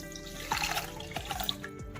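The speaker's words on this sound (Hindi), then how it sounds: "अब इसके अंदर 1 कटोरी पानी डालेंगे।" A bowlful of water is poured into a kadhai with sugar to make syrup, a soft splashing gush with a few drips, fairly quiet and alone.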